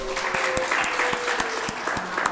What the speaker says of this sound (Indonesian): Tepuk tangan doang, Om